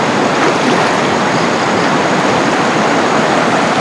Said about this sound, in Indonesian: Banjir lumayan besar ini tuh